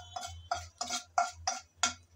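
A utensil stirs bay leaves, cardamom and cinnamon in oil left from frying potato and cauliflower, giving six crisp scraping taps at a steady rhythm over a faint low sizzle, close and fairly quiet.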